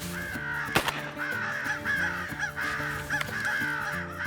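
Crows caw repeatedly during a winter crow hunt at a wildlife management area, a run of harsh, fairly close calls in an irregular rhythm, with no one speaking.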